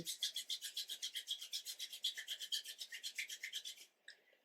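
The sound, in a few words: rubbing palms of hands together quickly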